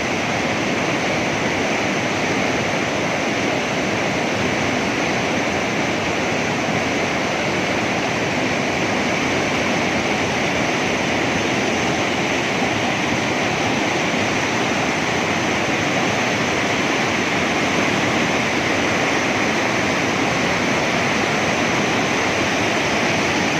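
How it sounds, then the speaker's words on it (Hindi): The Neelum River rushes and churns in a constant, loud roar of white water that stays steady and unbroken throughout, with no voices. "दूसरी तरफ से आने वाला दरिया पानी में मिल रहा है"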